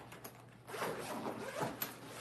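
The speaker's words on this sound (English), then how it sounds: "this has 2 zipper compartments down here" The zipper on a fabric brush case is pulled open in a quiet room, giving a soft, continuous rasping zip that rises and falls over a couple of seconds, with faint handling noise around it.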